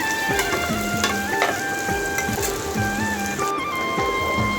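Vegetables, eggplant and potato, frying lightly in a large kadai, with a continuous close sizzle and crackle of hot oil and faint stirring over a rhythmic background tone.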